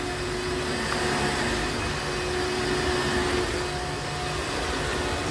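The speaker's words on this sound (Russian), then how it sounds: "Ты что там, убираешь? Пылесосишь," A vacuum cleaner drones continuously and fairly loudly, a steady motor whine with a constant hum that holds unchanged throughout, no voices over it.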